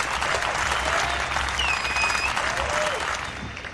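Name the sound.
rally crowd applause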